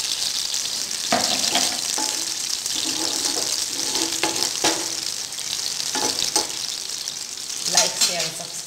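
Hot oil tadka tempering for homemade dhokla sizzles and crackles steadily, with sharp bursts of spattering popping in at irregular intervals; no talk over it.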